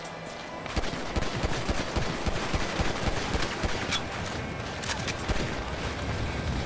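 Rapid pistol fire in GTA Online's first-person deathmatch, a steady stream of sharp close shots rattling on for several seconds with no voice over it.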